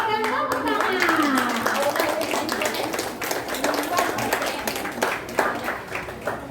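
Applause from an audience at a primary school event after a second-grade choir performance: many hands clap densely and loudly, starting under a voice and fading somewhat toward the end.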